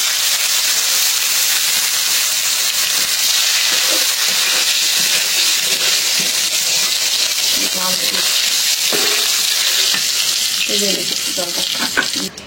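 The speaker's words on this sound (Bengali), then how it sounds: "এখন ভাইজে নেব ওই যে ফুলকপি" Cauliflower fries in a pan with a loud, continuous sizzle and hiss, with faint stirring clatter and brief voice traces beneath.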